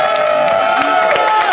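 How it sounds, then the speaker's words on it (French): A crowd applauds and cheers for Hamid, a production crew member who brought a tablet to a French show. The cheering is steady and dense, a little distant, with whoops and a faint voice mixed in. "Applaudissements pour Hamid."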